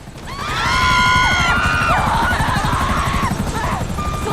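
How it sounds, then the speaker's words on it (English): A helicopter attacks in the video game GTA Online, its rotor thumping loud and steady throughout while harmonic in-game tones and chirps sweep over it. "But what about the helicopter that's trying to take me out?"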